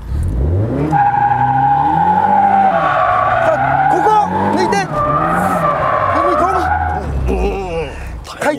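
A car drifting during a drift lesson, its tires squealing in long sustained wails that rise and fall over the engine's revving, loud and close, with someone talking over it.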